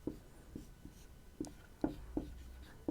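Chalk or a marker taps and scratches on a classroom board in short, irregular strokes during a maths lesson. The sound is close but fairly quiet, with no voice over it.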